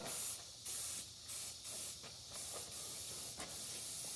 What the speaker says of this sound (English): we're going to now paint the parts on the bottom of the deck right in here with this black